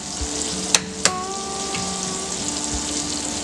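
Minced jarred garlic sizzles steadily in melted butter in a pan, a constant close frying hiss broken by two sharp clicks early on.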